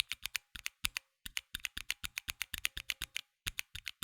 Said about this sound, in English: The reds are linear switches which have the simplest operation